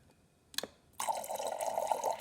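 Water from a refrigerator door dispenser pours steadily into a cup, a close, continuous trickling stream lasting over a second after a brief click.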